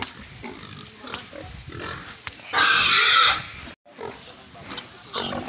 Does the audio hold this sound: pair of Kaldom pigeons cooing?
no